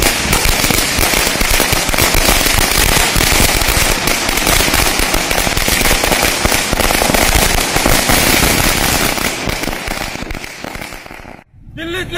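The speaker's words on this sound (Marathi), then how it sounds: "फटाक्याच्या आतिषबाजीने आनंदोत्सव साजरा केला" A long string of firecrackers bursts loudly and continuously at a celebration by party workers in Chandur Railway, a dense rattling crackle that runs unbroken for about ten seconds before stopping, with voices faintly mixed in.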